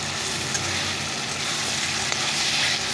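Spice paste of onion, garlic and turmeric fries steadily in a hot pan, a close, dense, continuous sizzle with faint stirring scrapes and no voices.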